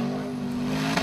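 A Formula Offroad car in Iceland revs hard, its engine holding a loud, sustained, buzzy tone up close for about a second, with a slight surge at the end.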